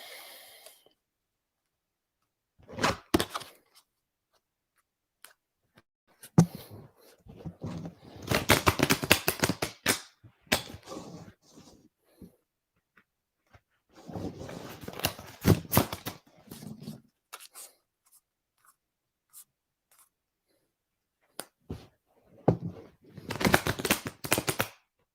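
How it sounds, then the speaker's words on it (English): Oracle cards are shuffled in a quiet room, in several separate bursts of quick, soft riffling and slapping, each lasting a few seconds, with silent gaps between them. "let me shuffle this card again"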